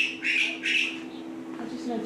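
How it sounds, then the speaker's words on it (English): Two small birds calling indoors near a kitchen: a pair of short, high, squawky chirps in quick succession, fairly close, followed by fainter chatter over a low steady hum. "I just noticed there's two other little birds here."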